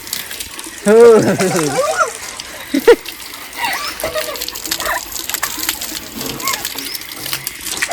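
Water splashing and gushing as people are washed off after playing with Holi colours in a village, with intermittent splashes, voices talking and a few other sounds around.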